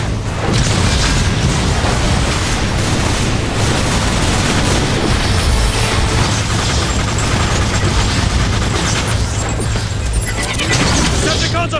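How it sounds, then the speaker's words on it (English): Grenade blasts and heavy gunfire in a Transformers: War for Cybertron battle form a dense, loud, continuous barrage, with booms stacking over one another and game voices shouting throughout. "Decepticons are firing grenades!"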